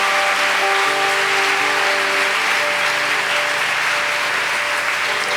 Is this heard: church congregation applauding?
yes